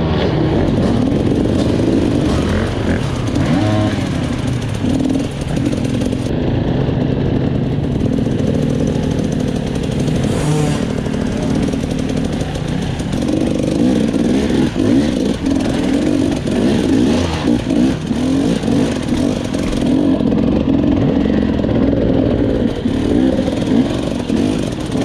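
A single-cylinder hard enduro motorcycle on a rough trail, its engine a continuous loud, gritty, revving drone with clattering throughout, close by for the whole stretch.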